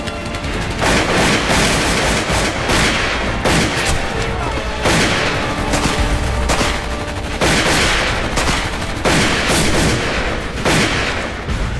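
Rifle gunfire in a Gallipoli war film battle scene: dense, loud, overlapping shots and heavy blasts roll on without pause, with a faint shout briefly audible in the din.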